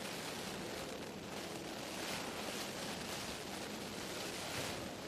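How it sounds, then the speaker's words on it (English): Strong Storm Ashley wind at Manchester Airport roars steadily as broadband buffeting noise against the microphone, continuous and loud with no voices. "Waiting for the wind to stop."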